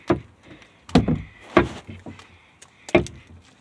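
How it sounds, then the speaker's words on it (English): A locked door in an abandoned shopping center is rattled and pushed, giving several loud, separate thuds and knocks with short rattles between them, close by and with no one speaking. "The door's locked."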